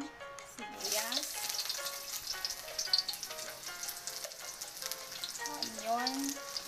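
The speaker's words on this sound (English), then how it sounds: "Kasi mainit na ating mantika. Ilagay na natin ang sibuyas." Chopped onion drops into hot cooking oil for pancit, bursting into a loud, steady sizzle and crackle that fills the clip, with brief clatters of utensils and a few tonal tones over it.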